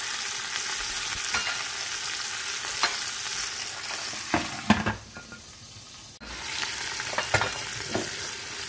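Meat browns in a hot pan for couscous with cardoons, giving a steady close sizzle broken by a few sharp stirring and scraping knocks and one brief pause, with no talking.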